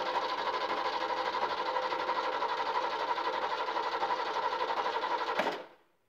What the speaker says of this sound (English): And we'll watch as I roll the engine over.